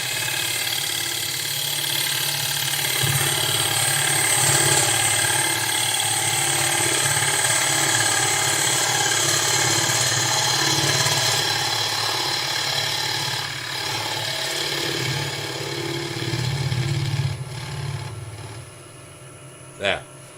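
Wood lathe spinning as a bowl is hollowed, a steady motor hum overlaid with hissing tool-on-wood scraping, continuous for most of the stretch before dropping off near the end.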